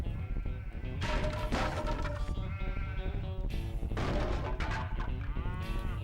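Cows low repeatedly in the video game Ty the Tasmanian Tiger, several loud drawn-out moos and bleating calls overlapping over a dense game soundscape, close and prominent.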